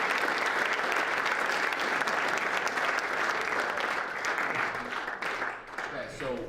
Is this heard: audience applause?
yes